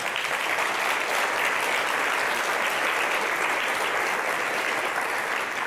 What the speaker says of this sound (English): I hope you're applauding for yourself